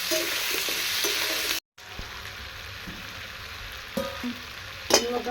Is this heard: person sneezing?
no